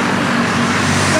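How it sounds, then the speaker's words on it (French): Car traffic on a Bangkok street makes a steady, close rumble of engines and tyres that holds at one level throughout. "Bon, désolé pour le bruit des voitures par contre."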